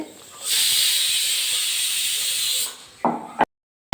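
Gas pressure cooker whistle cooking radish greens, a loud steady hissing blast lasting about two seconds, then stopping, followed by brief clatter.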